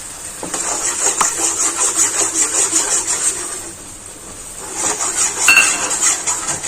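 Rice flour and water for modak are mixed in a pot, a spoon scraping and clinking against the metal in a quick, steady rhythm that pauses briefly before resuming with brighter clinks.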